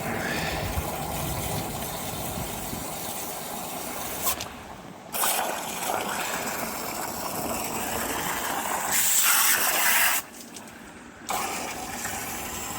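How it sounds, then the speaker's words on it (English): A garden hose pours water into a 6500-litre koi pond, a steady splashing and gushing flow that continues throughout with brief interruptions and no voices. "so what I usually do is just get the hose, give it a bit more."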